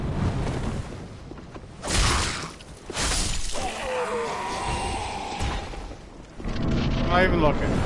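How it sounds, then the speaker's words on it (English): Explosion from the video game Dark Souls 3: heavy booming bursts near 2 and 3 seconds with a rumbling, crashing tail, layered over game music and effects, with a person talking throughout. "Cool guys don't look at explosions."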